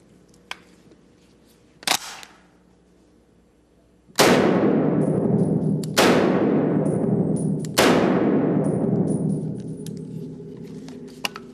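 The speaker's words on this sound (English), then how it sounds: "this is a Browning .30-06 caliber semi-automatic rifle, and this is used more so in hunting" A Browning .30-06 semi-automatic hunting rifle fires three loud, sharp shots about two seconds apart, each leaving a long decaying ring outdoors, after a couple of faint clicks and knocks.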